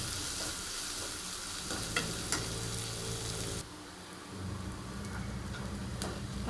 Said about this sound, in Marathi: आता त्याच्यामध्ये एक कांदा टाकते, बारीक चिरून घेतला आहे, मोठ्या साईजचा। मला छान असं फ्राय करून घ्यायचं त्यामध्ये।